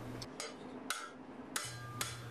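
Round-faced hammer striking cold sheet metal laid over chain link while forging a large ladle bowl, five sharp ringing metallic blows at an uneven pace, close and clear with no talk.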